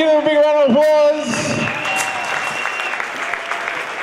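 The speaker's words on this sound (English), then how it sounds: "give them a big round of applause" Crowd applause fills the rink at a charity hockey game between the New York Whalers and FDNY, loud and sustained, with a male announcer's amplified voice over the clapping at the start.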